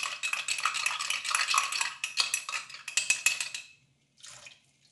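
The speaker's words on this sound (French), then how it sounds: "je vais prendre une cuillère à café de maïzena. Je vais venir mélanger ça" A teaspoon stirs cornstarch into a sauce, giving fast, close scraping and clinking against the pot for about four seconds before stopping, with one brief final stir after a short pause.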